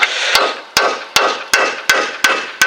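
An old lower ball joint with factory rivets on a Chevy S-10 is driven out with a hammer, seven sharp metallic blows in an even rhythm, each ringing briefly, close and loud with no talk.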